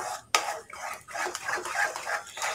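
A ladle scrapes and stirs thick wheat flour halwa in a metal pan, producing uneven, close-up rhythmic strokes with a sharp clank near the start.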